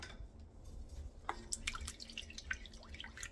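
Water for bread dough is stirred together with yeast in a kitchen bowl, giving a few faint, close drips and small liquid splashes with no voices.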